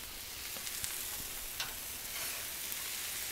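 Canola oil sizzles on a freshly seasoned Blackstone griddle, a quiet, steady frying hiss with a few faint pops scattered through it.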